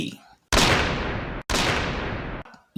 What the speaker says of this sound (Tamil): இரண்டு துப்பாக்கி சத்தங்கள்